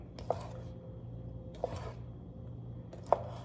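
Kielbasa being sliced on a cutting board that slides around the counter: three separate knife chops, each a short crisp knock spaced over a second apart, faint and close in a quiet kitchen.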